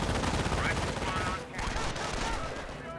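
Sustained MG42 machine gun fire in a Company of Heroes match, dense rapid bursts layered with other gunfire and battle din, steady and loud throughout, without any voice.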